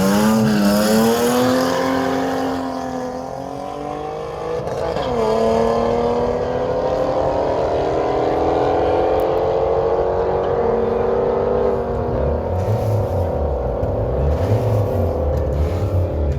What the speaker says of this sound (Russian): И вновь противостояние Мерседес БМВ.